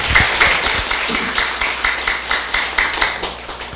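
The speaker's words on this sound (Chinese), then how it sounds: "请大家用掌声欢迎" Audience applause welcoming a speaker to a lecture class, a close, energetic burst of many hands clapping with rhythmic pulses, loud and sustained, no talk over it.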